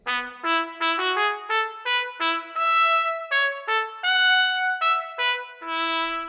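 Close-miked ProjectSAM solo trumpet sampled library playing a quick staccato passage, bright detached notes in a lively rhythmic run, dry and present with no voices.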